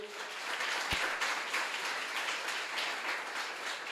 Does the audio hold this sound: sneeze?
no